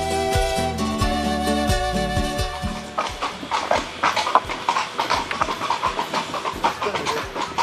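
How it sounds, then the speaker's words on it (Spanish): A horse-drawn carriage moving through the city streets of Zamora, Spain: hooves clip-clop in a steady, fairly loud rhythm that takes over after an opening stretch of sustained tonal sound. "Optamos por recorrer la ciudad en un coche de caballos."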